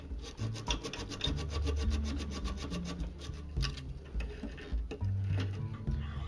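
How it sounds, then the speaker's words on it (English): Sanding a handmade wooden fishing lure by hand, a steady scratchy rubbing rasp with rhythmic back-and-forth strokes, close and continuous with no talk. "And sand it clean."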